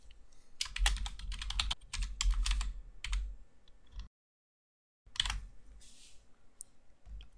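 Quick bursts of keystrokes on a computer keyboard while typing a note, close and clear, with a short silent pause before a final flurry of typing.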